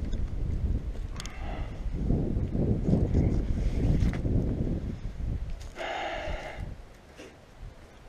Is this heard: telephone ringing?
no